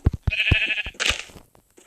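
A Minecraft sheep bleats once in a wavering, nasal cry amid a few soft clicks and taps, followed by a short second bleat.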